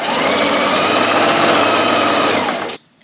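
Sewing machine running a long continuous seam down a cropped puffer jacket sleeve, a loud close steady whir that stops abruptly near the end, leaving near silence.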